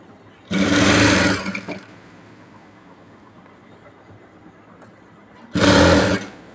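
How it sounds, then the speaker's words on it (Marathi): A sewing machine stitches a fabric strip for a puffy sleeve: two loud, close bursts of fast mechanical whirring, about a second each, separated by several seconds of quiet room hum. "तर अशा पद्धतीने आपल्याला शिलाई टाकून घ्यायची आहे."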